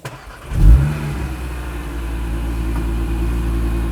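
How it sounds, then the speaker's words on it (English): A 2026 Audi RS3 Competition Limited's five-cylinder engine starts with a sharp bark, then settles into a steady, loud, close idle rumble. "just to make sure you hear it better, that signature 5-cylinder sound"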